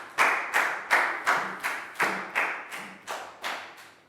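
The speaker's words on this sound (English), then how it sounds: "Big round of applause for Pak Bung." Rhythmic clapping of hands for a pupil in a Year 3 classroom, about ten sharp, evenly spaced claps in a steady beat, close and fairly loud with no talk.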